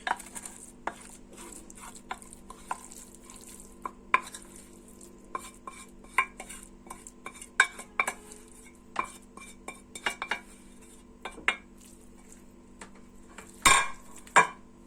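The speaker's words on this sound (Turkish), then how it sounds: "Ve iyice karıştırıyoruz." A spoon stirs and scrapes a mashed potato and onion mixture for içli köfte in a bowl, giving repeated close clinks and scrapes in an irregular rhythm with no talk.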